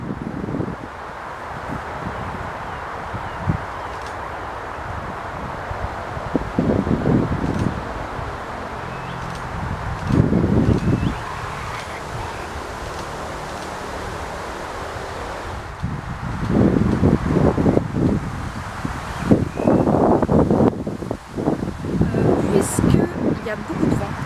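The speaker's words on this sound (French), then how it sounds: "Il y avait vraiment trop de vent." Strong outdoor wind buffeting a microphone during a macro photography outing, with heavy low rumbling gusts that come and go in bursts, loudest in the second half, over a constant airy rush; a voice speaks at times.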